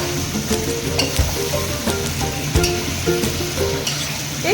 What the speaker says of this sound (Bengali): এখন শিম আলুটা দিয়ে দেব।